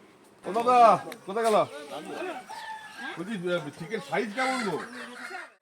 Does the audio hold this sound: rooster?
yes